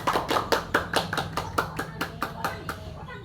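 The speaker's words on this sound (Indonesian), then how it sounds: "Marilah kita tepuk tangan untuk diri kita sendiri." A group of people in a counseling session clapping hands together, about a dozen sharp, fairly regular claps in quick succession, close and clear.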